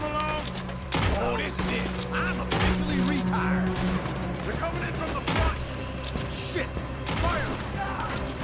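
Gunfire in the video game Red Dead Redemption II: a rapid volley of sharp, loud period-weapon shots cracks through a busy in-game soundscape, several blasts spaced a second or two apart, with someone talking over it.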